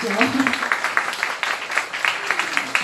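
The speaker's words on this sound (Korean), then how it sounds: "여러분 여기서 박수를 안 보내드릴 수가 없죠." A church audience applauds steadily during a gospel concert program, with a bright, busy spatter of claps, some crowd voices and a speaker's voice blending in.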